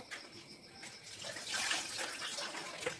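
Tap water runs steadily at a sink while fruit is rinsed, a soft continuous splashing rush that swells slightly midway, fairly quiet and close, with no talking.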